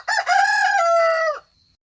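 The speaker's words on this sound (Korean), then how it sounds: "called out from the hen roost cock-a-doodle-doo" A rooster on a hen roost gives a single loud, clear cock-a-doodle-doo crow lasting just over a second, then the sound stops abruptly into near silence.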